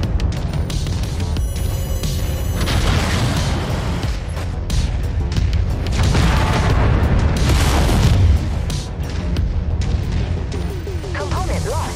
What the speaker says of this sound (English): I'm gonna lob missiles at him for a little bit